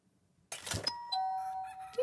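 A doorbell chimes a clear two-tone ding-dong in a German let's-play of the game Content Warning, the tones ringing out and decaying over a second after a brief burst of noise.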